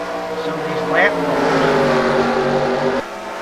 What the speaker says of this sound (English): All these lap cars going by